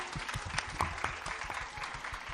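An audience at a school annual day event claps loudly for the children, a dense steady applause with scattered sharper claps, filling the whole stretch at close range.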